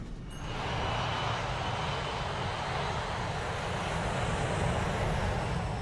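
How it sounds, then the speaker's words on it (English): Aloha Airlines Flight 243 airliner engines roar at takeoff, a loud, broad, steady rumble that swells within the first second and then holds constant and close, with no voices. "At 1:25, Flight 243 is ready for takeoff."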